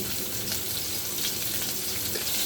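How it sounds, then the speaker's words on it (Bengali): Onion, garlic and green chili fry in hot oil in a pan, making a loud, dense sizzle that holds steady throughout the short stretch with no voices. "তারপর এই তেলের মধ্যেই আমি আবার পেঁয়াজ রসুন সব কিছু ভেজে নেব।"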